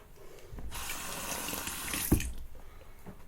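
A razor is rinsed under a running tap after a shave, with a quiet rush of water that starts abruptly, flows steadily for about two seconds with one sharp knock against the sink, then stops.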